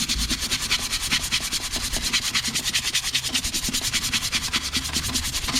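A brush scrubs grime off a car part in quick, regular back-and-forth strokes, close and steady for several seconds with no talk over it.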